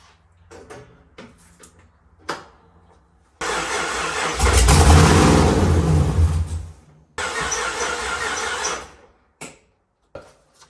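A small engine fires up on fuel after a few scattered clicks and knocks, then runs loud and rough, swelling into a stronger rev before cutting out and starting again briefly, with sharp pops near the end.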